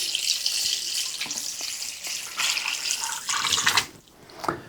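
Chicken broth poured from a four-cup container into a crockpot of soaked pinto beans, a steady splashing liquid stream running for several seconds, then a brief pause and a short final splash.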